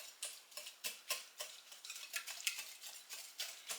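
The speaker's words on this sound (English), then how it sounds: "Mix this up." Light olive oil and sugar being stirred together in a bowl, giving a steady run of soft, rhythmic scraping strokes, close and fairly quiet, with no voices.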